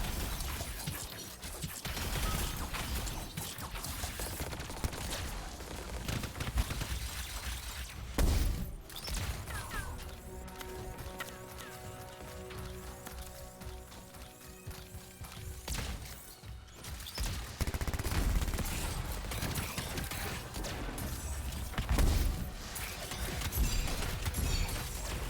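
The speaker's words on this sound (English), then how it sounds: "Time to show them that really large gun." A large gun firing in the video game Anthem, a dense, noisy barrage of heavy shots and crashing impacts that continues throughout, briefly easing in the middle, loud and unbroken by talk.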